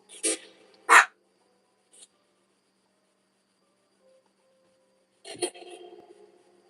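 A chihuahua lets out two sharp, high yaps close by, then falls quiet before a final bark and some brief rustling.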